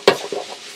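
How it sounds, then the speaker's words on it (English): Beyond Meat vegan beef crumbles dropped into a hot pan for a stir fry, giving a sharp clatter and hiss at first, then a few softer stirring scrapes over a low steady sizzle. "Now we're going to go ahead and add these beef crumbles."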